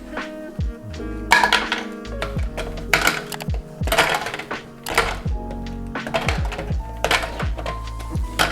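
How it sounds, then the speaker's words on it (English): A $40 shaved ice machine crushes and grinds ice cubes, giving loud, irregular clattering thunks and rattles as cubes drop and break, with a steady motor hum underneath and no talking. "pretty sure we just pour the ice in here and then it's gonna crush it and grind it up for us"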